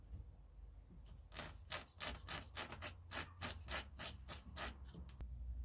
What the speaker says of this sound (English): I'm gonna sand this down a little bit here, some corners